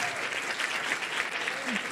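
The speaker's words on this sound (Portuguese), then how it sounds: "Salva de palmas." A crowd at a political rally applauds steadily, a dense wash of many hands clapping at once, sustained and fairly loud throughout.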